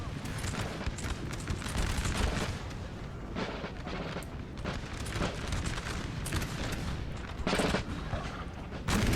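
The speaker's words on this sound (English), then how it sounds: "another salvo from this like nutty mortar" Mortar salvo in Napoleon Total War multiplayer battle, a dense rolling series of booming shots and distant gunfire crackling unevenly, with a faint voice underneath.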